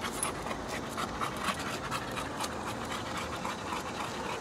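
A dog pants steadily and quickly, close by, with a faint scratchy background underneath.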